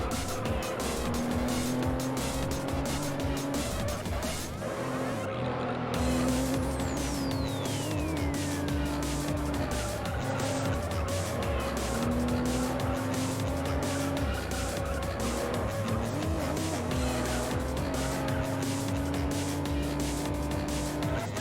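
A Toyota Supra races in the arcade game Juiced, its engine droning steadily with rising and falling revs while tire squeal and skidding cut in repeatedly, loud and continuous without any talk.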